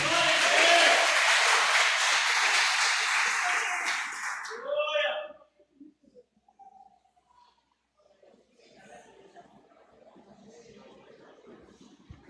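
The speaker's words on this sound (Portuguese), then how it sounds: "Você pode aplaudir." A church congregation applauds during a celebration service, a dense wash of clapping for about five seconds that cuts off abruptly, followed by faint voices and quiet room sound.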